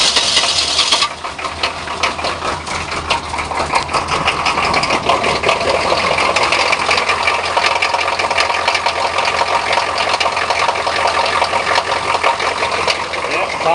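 Car engine cranking and catching after a battery change on a cold morning, then running on in a steady, loud idle with a rapid rattling pulse, continuous throughout.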